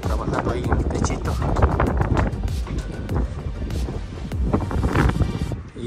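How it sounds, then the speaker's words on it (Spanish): Strong gusting wind buffets the microphone on a rooftop at the edge of the sea where a roofer is working, a loud rough roar that surges and fades in waves with bursts of rumbling, with no clear talk. "Estaba un viento, está un viento terrible arriba"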